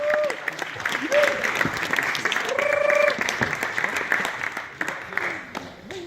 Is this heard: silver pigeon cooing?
no